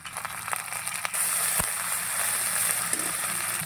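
Ground spice paste hits hot oil in a pan already holding fried onions, cumin and bay leaf for an egg curry, setting off a steady, loud, hissing sizzle that swells after a brief quieter start.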